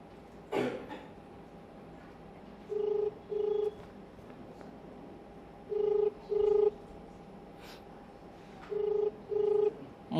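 A telephone call goes out: a short burst of keypad dial tones, then three pairs of ringback tones at steady intervals over a quiet line with faint background noise.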